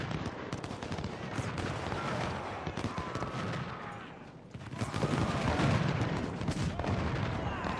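Musket infantry firing in the Ultimate General: Civil War video game produces dense, continuous crackling volleys of rifle fire and booms. The firing briefly dips partway through before swelling again, loud and sustained.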